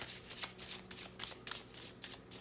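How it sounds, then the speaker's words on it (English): Playing cards being shuffled close up, a series of quick riffling bursts repeating at a steady rhythm, fairly soft and with no talk over them. "It's weird that I'm shuffling different today. I think the cards are finally getting loose."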